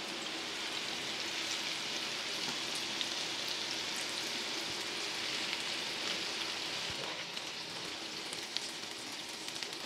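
Chicken gilafi kababs fry in hot oil with a steady, dense sizzle that hisses evenly throughout, close by and moderately loud, with no talking.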